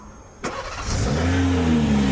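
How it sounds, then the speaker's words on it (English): A BMW with a BM3 Stage 2 tune cranks over on its starter: a sudden onset, a brief whirring crank, then the engine catches and settles into a steady, loud, close idle hum, with no talk. "That starter sounded different."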